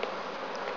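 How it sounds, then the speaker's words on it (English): Bees buzz during a hive inspection, a close and steady droning hum in a brief, quiet stretch without speech. "Shake the bees away."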